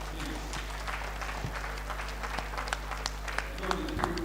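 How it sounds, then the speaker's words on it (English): Steady applause from an audience at an institute's Founders Day event, soft continuous clapping with a few sharper claps over a constant low hum. "Round of applause for her, please."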